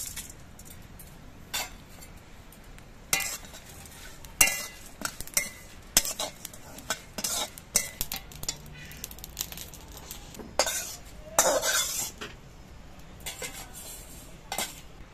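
Dry red chillies and fennel seeds are dry-roasted in a wok. A spatula clinks and scrapes against the metal in irregular sharp strikes, close and fairly quiet, with no voices.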